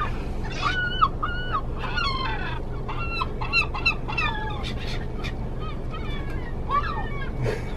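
A chicken clucks close by in a quick series of sharp, repeated calls over a low steady background hum.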